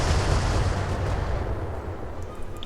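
Weapons fire at a target in the BattleTech video game: a dense, rumbling barrage of booming shots and blasts that is loud at the start and thins gradually into a lingering roar, with no talk.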